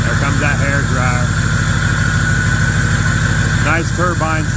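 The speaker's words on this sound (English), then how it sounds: "Nice turbine sound from the" A 2005 6.0L diesel truck idles nearby in a loud, steady rumble, with a turbo whistle riding above it and a few short rising chirps mixed in.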